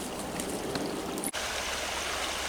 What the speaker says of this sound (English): Water's running pretty good. Everything's melting finally.